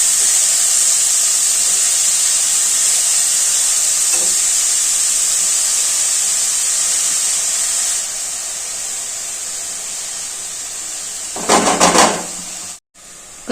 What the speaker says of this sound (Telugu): ఇట్లా బాగా వేయించుకోవాలండి. పైకి కిందికి చేసుకుంటూ లిడ్ పెట్టేయాలి.